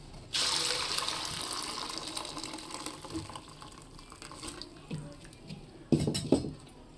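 Water drained off boiled rice through a strainer, a loud pouring gush that starts abruptly, tapers into trickles and drips, then surges briefly again near the end, heard alone.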